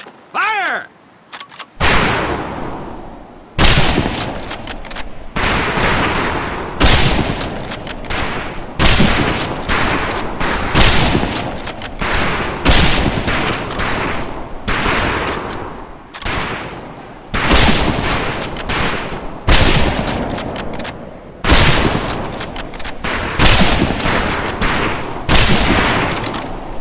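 Repeated rifle shots crack across a World War II training shooting range in Medal of Honor Pacific Assault, loud irregular volleys from several shooters firing in overlapping bursts for the whole stretch.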